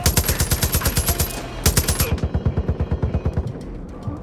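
Gunfire in the video game Far Cry 5 comes as a rapid, evenly spaced string of loud shots, more than twenty in quick rhythm with a brief break, then fading into ringing echoes.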